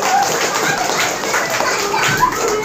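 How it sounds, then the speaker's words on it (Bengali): Children and teachers applaud a correct answer at a Class 4 quiz contest, a fairly loud, sustained patter of clapping with a few young voices faintly heard underneath. "একটা হাততালি হোক"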